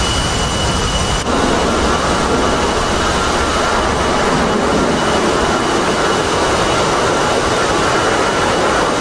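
A jet launching off an aircraft carrier catapult in the DCS flight simulator, heard as a loud, continuous roar of engine and rushing noise that holds steady throughout.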